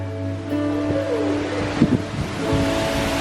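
Steady rushing water roars continuously from a waterfall in Death Valley, a broad wash of falling water with a low hum underneath, no voices.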